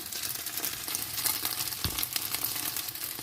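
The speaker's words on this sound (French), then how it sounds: "Je vais faire cuire la pâte dans l'huile." Cubes of Vietnamese rice paste fry in hot oil with a steady, close crackling sizzle, and a few stirring scrapes break through the hiss.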